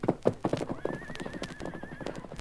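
Horse whinny and clip-clopping hooves as a radio drama sound effect in a 1942 Western broadcast, a rising neigh held over steady hoofbeats, close and clear with no talk.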